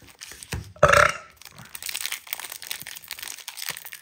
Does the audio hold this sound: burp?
yes